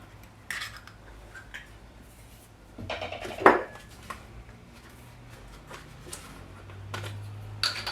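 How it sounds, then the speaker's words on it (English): A large egg is added to pancake batter in a bowl, with light clinks of utensils and dishes and one louder sharp knock midway, heard close in a quiet kitchen. "So I'll just add 1 large egg."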